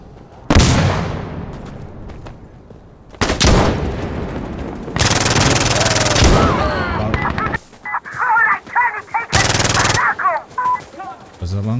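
Gunfire in the shooter game Insurgency Sandstorm: several loud, close bursts of rapid automatic shots separated by pauses, with sharp echoing reports, spoken voices appearing between shots.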